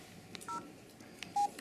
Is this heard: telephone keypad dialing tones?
yes